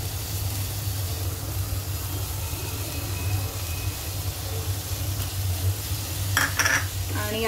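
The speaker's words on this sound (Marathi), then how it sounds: "मी ह्याच्यामध्ये आता ऍड करते बारीक चिरलेली शिमला मिरची 1 बाउल" Finely chopped capsicum stirred into fried onion in a pan, a steady sizzle under repeated scraping of a spatula, with a few sharper metallic clinks of utensils near the end.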